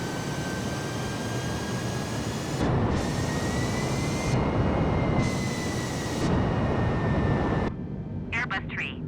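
Airbus A320 jet engines roar steadily just after takeoff in Microsoft Flight Simulator 2020, a loud, sustained whine and rumble with shifting bands of noise, while someone talks over it before a short, quieter stretch at the end.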